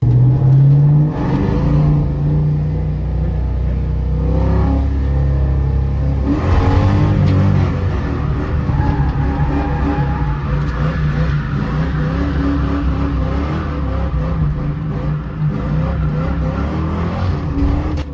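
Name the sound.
Ford Mustang drifting on a track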